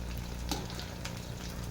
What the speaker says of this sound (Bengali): একদম লালচে লালচে করে আমি নিয়ে নেবো ভেজে।